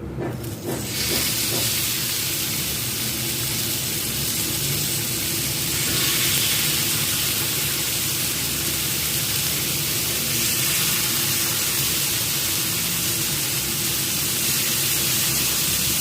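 Chicken malai tikka sticks cook in a heated pan over a medium flame, giving a steady close hiss and sizzle that holds for the whole stretch with slight swells, and no one speaking.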